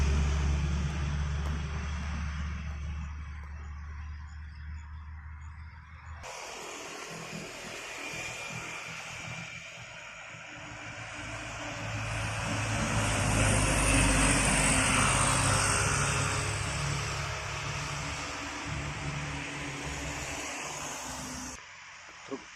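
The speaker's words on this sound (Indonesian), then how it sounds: "Truk tangki kembali menanjak," A Hino tronton tanker truck hauling crude palm oil climbs a hill under heavy throttle, its engine droning loud and close with a rising, straining roar through the middle before easing off near the end.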